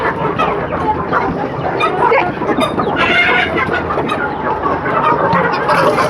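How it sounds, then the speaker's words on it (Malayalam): Laying hens raised for eggs cluck and chatter continuously at close range, a loud overlapping chorus of clucks with occasional sharper squawks, with no talking. "അങ്ങനെ നമ്മൾ കോഴിക്കൊക്കെ തീറ്റി വെള്ളം എല്ലാം കൊടുത്ത് സെറ്റാക്കിയിട്ടുണ്ട്"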